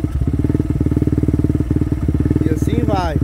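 A stock Athlon motorcycle engine with an aftermarket central unit idles steadily just after being started, its rapid regular firing pulses close and loud throughout, with a brief higher rev and a voice speaking near the end.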